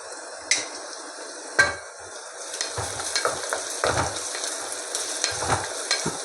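Onions frying in a pan for mutton keema, with a steady close sizzle broken by loud spatula knocks and scraping stirs against the pan, no voices.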